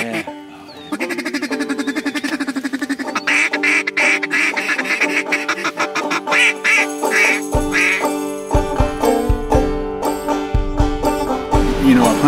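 Loud, close duck quacking during a duck hunt: a steady run of rapid, nasal quacks that grows busier and more insistent toward the end, with little else around it.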